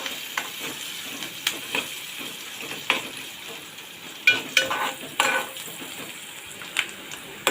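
Onion sizzling and frying in hot oil in a pan for a Maharashtrian fish curry, a steady crackling hiss broken by repeated stirring scrapes and clinks of a spoon against the pan, close and with no talking.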